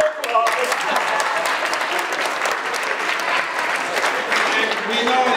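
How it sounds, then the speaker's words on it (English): Steady applause from a seated audience at a post-election civic gathering, dense and sustained for several seconds with no voices over it. "And give a round of applause."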